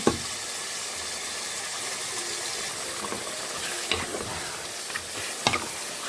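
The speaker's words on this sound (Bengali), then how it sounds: "ভালো করে মিশিয়ে নিচ্ছি মিশিয়ে নিয়েছি মশলার সাথে" Beef mixed with spices is stirred in a pan for a rezala, with a steady sizzle underneath and a few scraping knocks of the spoon against the pan, close and moderately quiet, no talk.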